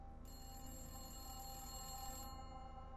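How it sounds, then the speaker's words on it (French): A telephone bell rings steadily and continuously at moderate level, a bright sustained ringing tone over a low hum, with no talking. "Le téléphone sonnait"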